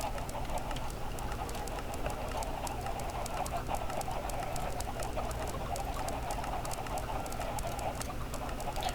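Flock of chickens spawned in the Minecraft video game, a dense, steady patter of many overlapping clucks and squawks, loud and continuous without pause; no talk.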